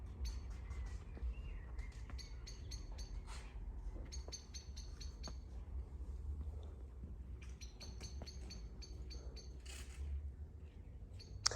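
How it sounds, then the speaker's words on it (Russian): Small birds singing in a rural garden plot, repeated bright chirps and short trilling phrases from several birds at moderate distance over a low steady background rumble, no talking. "А птички как поют, друзья."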